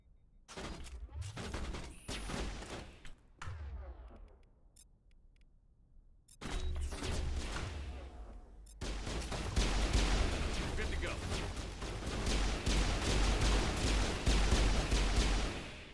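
Several sharp pistol shots crack out in the Mass Effect video game, some close together and others separated by gaps, over a dense layer of game combat noise and effects, with someone talking.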